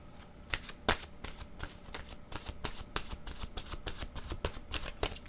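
Tarot cards are shuffled in quick, close riffling bursts, a run of crisp papery flicks repeating throughout with a faint low background hum.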